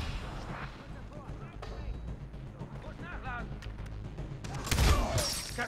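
Far Cry 3 co-op gunfire with booming shots and bursts rings out under a man's speech, with a heavier blast late in the clip.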